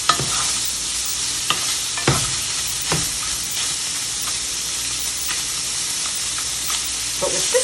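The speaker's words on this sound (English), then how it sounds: "my sausage is starting to get a little brown. I'll just keep that moving a little bit" Pre-cooked, prepackaged sausage browns in a pan for jambalaya, giving a steady close sizzle broken by scattered scraping stirs of the spoon. No one speaks.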